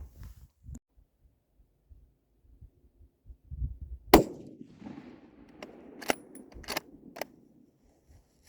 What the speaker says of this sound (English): We're going to shoot my rifle and sight in the scope